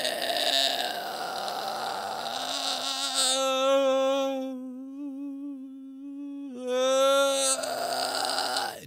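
A single voice performs a vocal texture exercise, holding one sustained tone that starts in a middle placement and then moves back and forward. The timbre shifts from buzzy and rough to clearer and more resonant, then back again.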